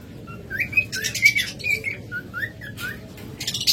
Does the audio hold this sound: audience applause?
no